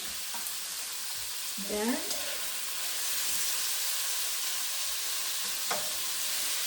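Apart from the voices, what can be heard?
beef sizzling and frying in a stir fry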